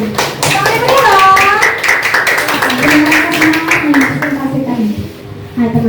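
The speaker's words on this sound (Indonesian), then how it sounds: "Tepuk tangan buat kelompok 1." Classroom applause for a student group, a burst of hand clapping mixed with children's voices and a teacher talking over it, loud and close, fading toward the end.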